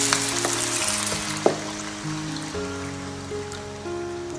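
Water goes into a pan of browned pork for Bisaya-style ginamay, giving a loud, continuous close sizzle with one sharp pop partway through.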